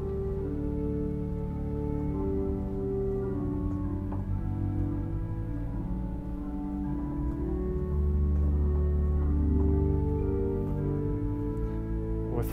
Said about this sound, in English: We've got a stop diapason with that,